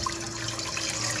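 Hot water runs steadily into a pot for soaking rice at an outdoor family cookout by the sea, a continuous close pouring and splashing sound alone without talk.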